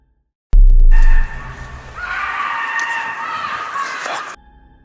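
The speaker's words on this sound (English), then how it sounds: "from somewhere in the darkness, a scream rips through the forest" A long, high, wavering scream rings out in a dark forest, loud and sustained after a sharp low thump, fading into quiet at the end.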